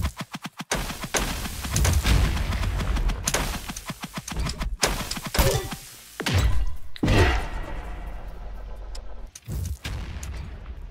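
Video game gunfire rattles out in rapid volleys of sharp, punchy shots separated by brief gaps, loud and close, thinning to a few isolated bangs near the end.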